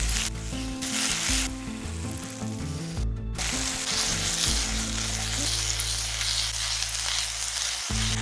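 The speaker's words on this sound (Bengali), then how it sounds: "বড়ি আর টমেটোটাকে একটু টস করে নিচ্ছি যাতে হালকা ভাজা ভাজা হয়ে যায়।" Bori lentil dumplings and tomato fry in a pan with a steady, close sizzle that runs through the whole stretch, with a soft steady tone in the background.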